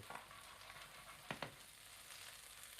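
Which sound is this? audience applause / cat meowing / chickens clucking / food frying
food frying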